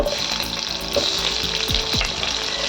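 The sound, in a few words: cumin seeds and onion sizzling in hot oil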